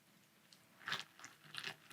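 Cap'n Crunch Arctic Crunch cereal in milk is eaten up close, with a few soft crunching bites and chewing sounds that come in small bursts over quiet background.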